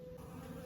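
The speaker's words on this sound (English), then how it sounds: "listening to these bees" Bees in a garden, a faint, steady, low buzzing hum that continues without a break over a quiet outdoor background.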